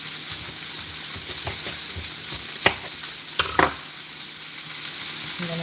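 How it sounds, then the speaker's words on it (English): Food sizzles steadily in sesame oil in a pan, a continuous crackling frying hiss with a few louder pops and spatters scattered through, heard close up without talk. "let them cook in this sesame oil before I start adding in my garlic and my other seasonings."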